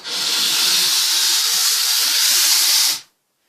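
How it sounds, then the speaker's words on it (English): A Polti Vaporetto Eco Pro 3000 steam cleaner sprays steam on a window, one loud, steady, close hiss held for about three seconds before cutting off sharply into silence. "But just try that again with the steam further away."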